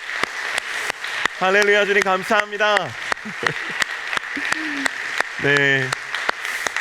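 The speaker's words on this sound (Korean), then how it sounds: "주님께 감사의 박수 올려드리고" A church congregation at a young adults' worship service claps steadily in sharp, evenly spaced claps, mixed with voices shouting out loud praise.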